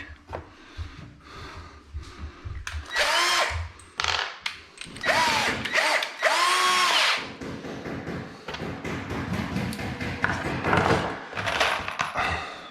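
A power drill whirs in several short bursts, rising in pitch as it drives screws while mounting bathroom cabinets, with clicks and handling noises between runs.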